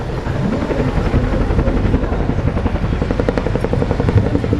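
A Chinook helicopter flies a display at the Sunderland airshow, its steady heavy rotor chop and engine roar filling the whole stretch loudly and continuously with no talk over it.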